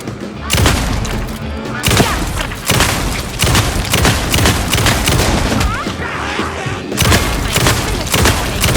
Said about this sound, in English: Gotta put more bullets in. That's a lot of fire.